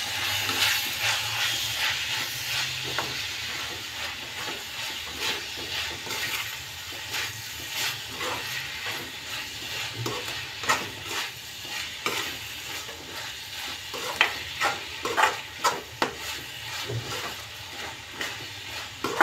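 Spatula stirring Schezwan sauce and spices in a hot pan for Schezwan fried rice, a steady sizzle with repeated scraping clatters growing sharper toward the end, close and with no talk.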